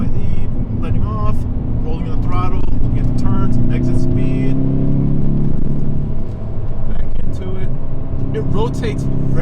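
A 2020 Hyundai Veloster N on a mountain canyon highway pulls under throttle in third gear, a steady, loud engine drone that rises and eases between bends, with someone talking over it from the cabin.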